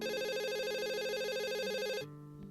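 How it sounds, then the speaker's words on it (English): Electronic phone ringtone sound effect from the visual novel Katawa Shoujo, a looping warbling tone that repeats steadily for about two seconds and then cuts off into a softer lingering note. "As Lily reaches into her pocket, it becomes obvious that the sound's coming from her phone"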